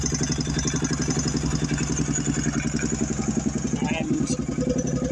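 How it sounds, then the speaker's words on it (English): A Honda XL500S single-cylinder motorcycle engine idles steadily and close after its carburetor has been refitted, a rapid even thumping pulse that runs throughout with faint clatter. "Float bowl is back on, carburetor back in,"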